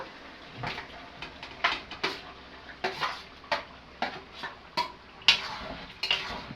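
Mutton is stirred in a cooking pot, each pass of the spoon giving a sharp scrape or clink roughly every half second to second, close and rhythmic over a low background hiss.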